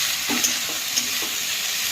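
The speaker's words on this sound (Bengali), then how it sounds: "এবারে কাঁচা টমেটোটা দিয়ে দেবো, দিয়ে ভালো করে ভাজা ভাজা করে নেব" Diced potatoes and raw tomato fry with onions in hot oil for a small-fish curry, a loud continuous hiss with a few quick stirring scrapes and light clinks.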